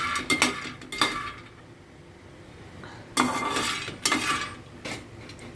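Lotus seeds (makhana) stirred in a frying pan, with bursts of scraping and clinking from the utensil against the pan that come in clusters between quieter stretches, close and fairly loud, no voices.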